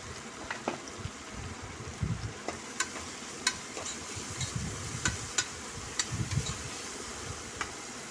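Green chili and garlic paste frying in a pan for chicken curry, a steady low sizzle with scattered small pops and crackles, quiet and close.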